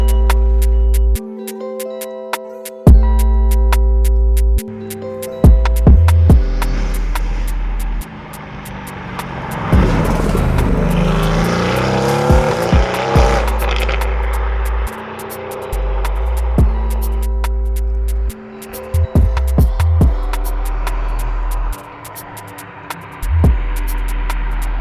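A 900bhp methanol-injected Mercedes-AMG GT R engine idles and revs close by, with steady droning stretches broken by sharp rises and drops as the throttle blips.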